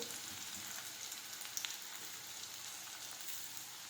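Chopped onions, green garlic, green chilli and grated ginger sauté in a pan for brinjal bharta, giving off a faint, even sizzle with a few small crackles and no talking.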